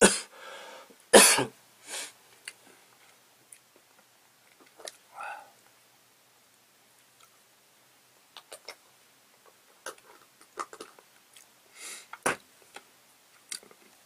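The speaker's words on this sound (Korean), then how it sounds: "아유 기침 나니까요. 말을 못하겠네요." A man coughs and clears his throat in a quiet room, a few sharp coughs early on followed by scattered sniffs, throat clearing and softer coughs, close to the microphone and spread across the span.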